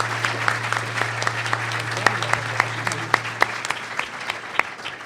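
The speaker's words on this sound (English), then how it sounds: "How about a round of applause for both our commentators?" An audience at a public-finance discussion of Illinois and Cook County government claps for two commentators, steady dense applause with crisp individual claps standing out, tapering slightly toward the end.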